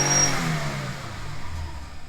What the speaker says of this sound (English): and then I can rev it